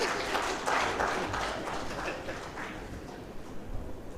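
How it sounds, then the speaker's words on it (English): Applause for a speaker at an indigenous food and seed fair, a dense wash of many hands clapping close by that swells early and then gradually tapers off. "Guys, let's clap for him."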